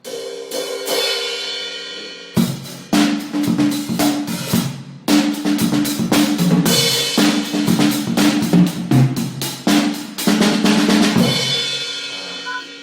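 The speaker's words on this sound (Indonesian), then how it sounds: "Jadi ini crash cymbals ya." Drum kit hits with bright, washy cymbal crashes ringing out repeatedly, loud and close, with a short pause before the strikes resume.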